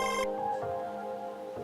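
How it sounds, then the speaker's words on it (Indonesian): A mobile phone ringtone plays loud and close at first, its tones then lingering and fading indoors, with no voices over it. "Mama ada telepon."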